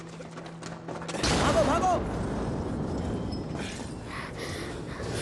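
A loud explosion in a Hindi-dubbed TV drama booms out after someone shouts, followed by a lingering rumble, with voices continuing underneath.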